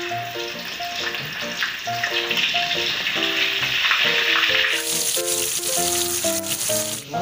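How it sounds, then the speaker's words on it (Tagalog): Dried fish (bulad) frying in hot oil in a pan, a close crackling sizzle that grows brighter and louder partway through, heard under soft background music. "Sa init na mo mga kasama, ilagay po natin yung bulat mga kasama."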